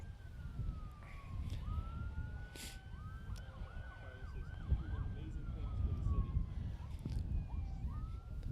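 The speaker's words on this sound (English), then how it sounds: "We hear the sirens." Police and emergency sirens wail at the start of a Juneteenth parade in Saginaw, a steady rising-and-falling tone heard from a distance over low street rumble.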